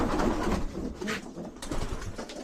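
Pigeons cooing close by while walking about on the ground, soft throaty coos and some rustling, fairly steady and unaccompanied by speech.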